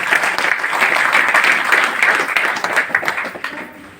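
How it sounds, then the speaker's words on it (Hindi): Sustained, dense applause from a seated audience in a meeting hall at a DXN business opportunity meeting in Patna. It stays loud and steady throughout, then begins to thin out near the end. "एक बार उन लोगों के लिए भी जोरदार ताली हो"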